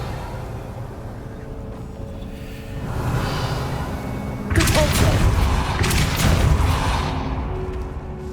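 A Revelio spell cast in Hogwarts Legacy gives a sudden, loud booming burst about midway that rings out with a crackling, rumbling tail over the steady hum of the game's surroundings.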